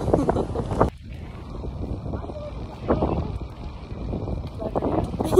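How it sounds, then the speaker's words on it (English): Wind buffets the microphone in rough gusts outdoors on a college volleyball media day, rumbling low throughout, while people talk over it. "But it's really windy."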